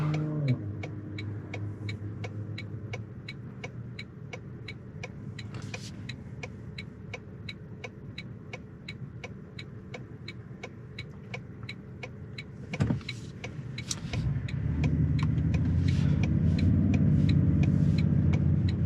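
A Toyota Tundra Hybrid pickup truck engine hums steadily with a faint repeating ticking, then swells into a louder, deeper rumble as it accelerates near the end.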